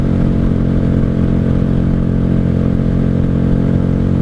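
A 1995 Honda Shadow VLX 600 motorcycle engine pulls hard at speed. It makes a loud, steady, throaty drone mixed with wind rush, and no one speaks.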